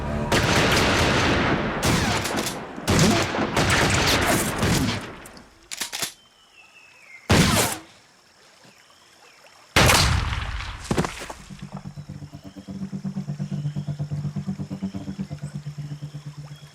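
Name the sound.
gunfire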